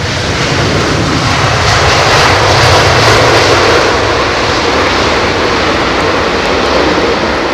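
Jet engines of a Virgin airliner roar loud and steady at London Heathrow Airport in wet weather, a continuous broadband rumble and whoosh with no voices.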